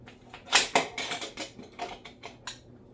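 Sentro knitting machine being cranked while knitting a neck warmer, giving a run of quick, light mechanical clicks and clacks in an uneven rhythm, close by and moderately loud.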